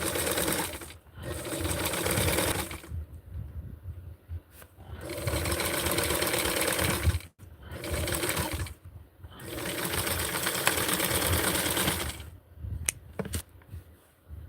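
A sewing machine stitches a small doll dress, running in several long, loud, steady whirring bursts separated by short pauses, close and alone without talk.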